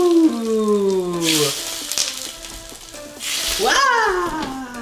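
Hot oil poured over a dish bursts into a loud hissing sizzle, heard twice in quick splashes, with excited voices and exclamations running through and around it.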